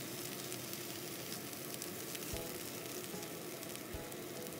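Halibut pan-frying under a lid in a home kitchen gives a soft, even sizzle with faint crackles, steady and fairly quiet throughout with no talking.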